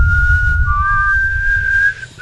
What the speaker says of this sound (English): I want to figure out how to whistle like that.